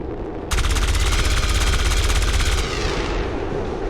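Sustained burst of rapid automatic gunfire from XCOM 2: War of the Chosen reaction fire, loud and dense for about two seconds before fading into a lingering rumble under the game's ambient noise.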